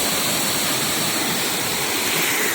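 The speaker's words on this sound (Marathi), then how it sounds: "धबधबा एक प्रकारचा ते बघू शकता" A waterfall in the Radhanagari ghat roars in a dense, unbroken rush of water, loud and close, with no voices over it.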